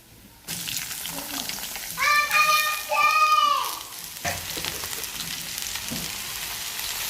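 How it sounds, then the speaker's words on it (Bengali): Onions fry in a pan on a home stove, giving a steady, close sizzle that runs through the whole stretch, with a brief voice-like tonal sound rising in the middle. "পেঁয়াজটা ভালো করে ভাজবো ভাজার পরে আলুগুলো দিয়ে দেবো"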